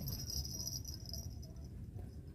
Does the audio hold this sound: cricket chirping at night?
yes